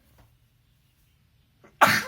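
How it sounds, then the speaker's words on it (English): A single sudden sneeze bursts out loudly and close after a brief quiet pause, preceded by a faint intake of breath. "Oh no, I've got to sneeze"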